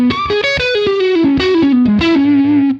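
Electric guitar through a Fender amp, a short bright melodic phrase of plucked notes with slight distortion, played close and alone.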